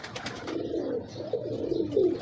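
Cooing of a crossbred pigeon at close range, several soft rolling coos rising toward the end, without talk.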